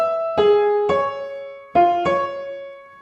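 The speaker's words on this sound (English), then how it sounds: "the first violins sound like this" First violin part of Tchaikovsky's Pathétique symphony, played alone: four clear, sustained bowed notes in two pairs, each note starting firmly and then fading slightly.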